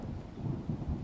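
A thunderstorm with thunder and rain: a steady, deep rolling rumble with swelling low surges and a soft wash of rain, continuous for a moment with no voices.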